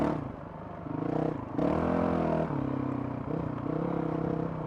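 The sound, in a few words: Honda CRF 450 RL motorcycle revving, enduro map, open exhaust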